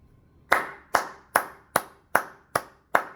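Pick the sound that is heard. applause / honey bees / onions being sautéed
applause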